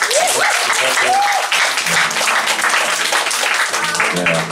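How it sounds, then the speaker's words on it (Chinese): An audience claps through a live band's comedy-and-music show, steady applause at close range throughout, with a few voices briefly mixed in. "我们给廖祖一个拍手。"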